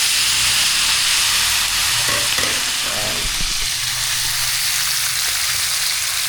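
Onion and tomato sautéing in a pan, with a loud constant hiss of frying close by and a few muffled stirring scrapes partway through.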